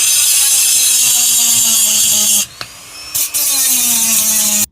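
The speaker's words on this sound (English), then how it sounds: "we're going to have to prep the board with the Dremel now" Dremel rotary tool cleaning the coated edges of a Milwaukee M18 battery management circuit board, a loud, close, steady high-pitched whine that briefly drops out twice midway before resuming and cutting off.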